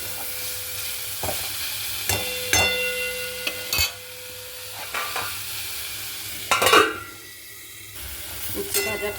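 Slices of bitter gourd fry in a pan on a home stove, with a continuous sizzle broken by several sharp scrapes and clinks as the pieces are stirred, close and fairly loud, with no voices.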